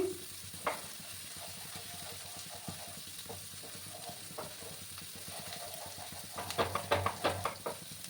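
Ginger and spring onion greens sautéing in a pan for a spicy wallago fish curry, a soft, quiet sizzle with scattered stirring scrapes, growing busier and louder near the end.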